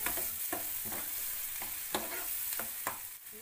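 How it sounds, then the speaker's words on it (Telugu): Thinly sliced onions and green chillies frying toward golden brown in a pan for restaurant-style paneer butter masala, a soft steady sizzle broken by rhythmic spoon stirs about every half second, close and without talk. "సన్నగా తరిగి పెట్టుకుంటాం ఉల్లిపాయలు, పచ్చిమిర్చి. ఇది గోల్డెన్ బ్రౌన్ వచ్చే వరకు ఫ్రై"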